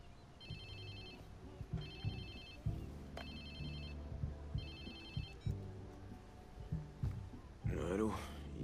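A mobile phone rings repeatedly in the video game Watch Dogs 2, short bursts of electronic tones in a steady pattern over low in-game music and ambience, followed by a brief breath or sigh.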